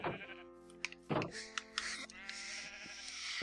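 Sheep in the video game Minecraft bleat a few times during a farm build. The short calls rise over steady game music and background effects.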